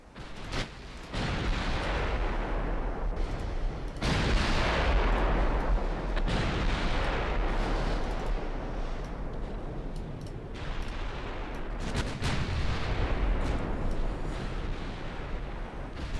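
Heavy naval guns boom repeatedly in a warship combat game, with loud sustained blasts and rumbling gunfire continuing throughout, no talk over them.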